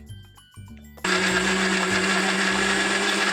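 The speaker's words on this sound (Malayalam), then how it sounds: "ഇനി നമ്മൾ ജസ്റ്റ് ഒന്ന് മിക്സിയിൽ ഒന്ന് അടിച്ചെടുക്കാം" A kitchen mixer grinder blending dates, starting after a second of quieter low hum and then running loudly and steadily at full speed, close by, with no talk.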